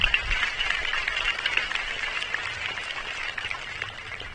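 A crowd at a high school graduation ceremony claps for the staff, a fairly faint, continuous patter of many hands that slowly tapers off, heard from a distance in a large hall.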